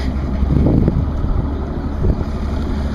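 Heavy wind buffeting the microphone on a bass tournament boat, a loud low rumble with gusty surges throughout and no voices.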